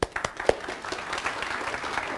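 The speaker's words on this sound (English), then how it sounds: "Give a nice round of applause." An audience at a hypnosis demonstration applauds a volunteer coming up, a few sharp claps at the start settling into a softer, moderate crowd applause.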